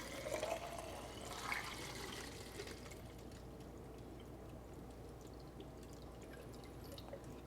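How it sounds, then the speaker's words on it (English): Film developing chemicals poured into a developing tank in a home kitchen: a faint, brief pour at the start, then quiet liquid trickling under a low background hiss. "I pour it in."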